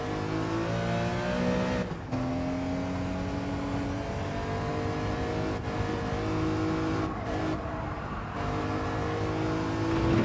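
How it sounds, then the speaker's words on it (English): A Honda Civic Type R FL5 or BMW M3 E46 engine drones and shifts gears in Gran Turismo 7 at Sardegna while tires squeal in long, strained bursts through corners, loud and close with no talking. "Hear the tires squeal in pain."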